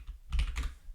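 Quick burst of typing on a computer keyboard, a handful of soft close keystrokes over about a second, with no voices.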